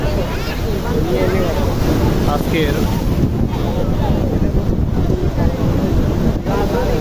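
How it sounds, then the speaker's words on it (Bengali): Strong sea waves roll and crash at Patenga beach in Chattogram while gusty wind buffets the microphone, making a dense, constant roar close by with no pauses. "আজকের ঢেউগুলো খুবই ভয়ঙ্কর, তবে আজকে ঢেউগুলো খুব ভালো লাগছে।"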